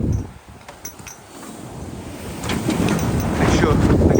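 Steady wind roars across the mic on the deck of a sailboat crossing the Atlantic in 15 to 16 knots, with water rushing along the hull and the gusty roar building louder toward the end.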